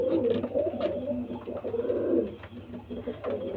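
Pigeons coo in repeated soft, throaty rolling calls close by at a pigeon sale in Barasat, overlapping one another, with a little background chatter.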